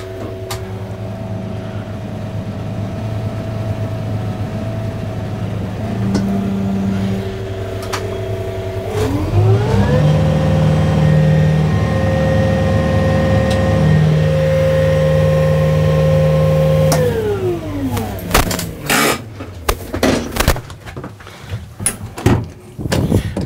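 Compact tractor engine with a boom pole attachment working under strain while trying to lift a heavy load, a steady close drone whose pitch rises into a sustained higher rev, then falls back amid clunks and knocks.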